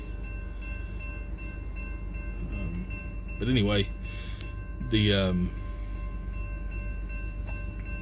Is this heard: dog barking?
no